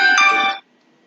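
A mobile phone ringtone plays one loud, bright melodic burst that stops abruptly about halfway through, leaving near silence.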